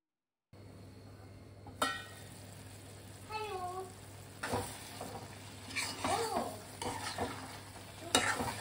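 Mushrooms cooking in a pan with a lid set over them, giving a soft steady sizzle with scattered clinks and stirring scrapes, close and moderately quiet, no talking.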